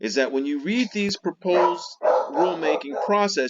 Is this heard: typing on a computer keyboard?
no